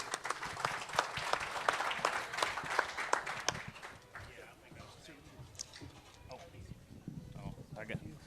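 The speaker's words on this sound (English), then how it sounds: "So please, hand a round of applause for our Matthew Deacon." An outdoor farm crowd in Berryville, Virginia applauds a farm manager, a moderately loud run of claps that fades after a few seconds, with a voice speaking over the thinning sound.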